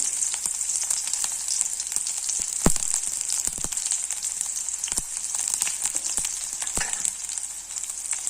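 Sliced onions sautéing in hot oil with mustard seeds, a continuous bright sizzle with scattered sharp pops and crackles, close and alone.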